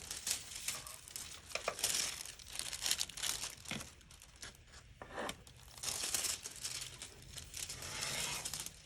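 Nail transfer foil crinkles and crackles up close in continuous papery bursts, loud and steady with no talking.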